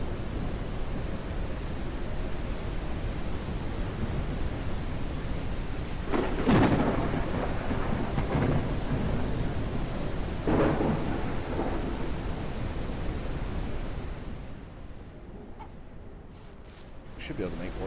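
Thunderstorm in the farming video game Ranch Simulator: steady rain hiss throughout with two deep thunder rumbles rolling through the middle, the downpour easing slightly near the end.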